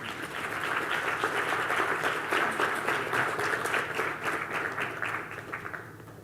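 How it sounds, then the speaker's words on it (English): An audience at a sustainability forum applauds a panel, a sustained burst of many hands clapping that swells early and holds strong before tapering off at the end. "A round of applause to this panel."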